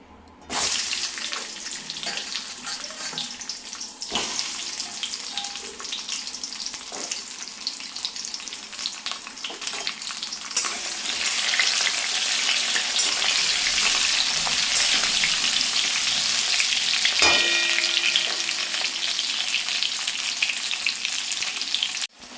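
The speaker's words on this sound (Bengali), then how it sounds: "বাকি পটলগুলো এখন আমি ভাজতে দিয়ে দিচ্ছি" Pointed gourd pieces fry in hot oil at home, a loud continuous sizzle and crackle lasting a long stretch, with a few knocks of a utensil and a watery hiss in places; no one speaks.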